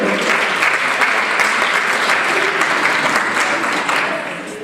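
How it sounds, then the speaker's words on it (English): A conference audience bursts into loud, dense applause, a sustained wash of many hands clapping that holds steady before easing off slightly at the end. "Give a round of applause."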